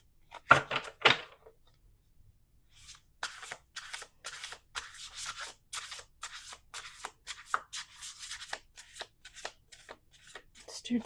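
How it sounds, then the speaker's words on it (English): Tarot cards being shuffled close by: a short rustling burst, a pause, then a steady run of quick, crisp riffling snaps at a fairly quiet level, with no talking over them. "let's do two more shuffles."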